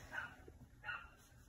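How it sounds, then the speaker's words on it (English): Indoors with the doors closed, a dog gives two short, quiet barks or yips about half a second apart, faint and slightly distant. "the dog making all the noise"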